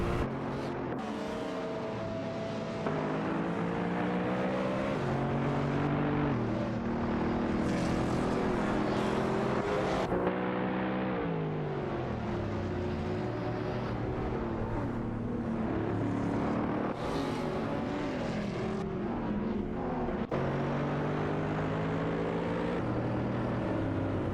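Several race car engines, including a Porsche 996 GT3 and a Mercedes, drone and whine continuously in a simulated video game race, with pitches shifting as cars accelerate and downshift close together, loud and steady throughout with no talking.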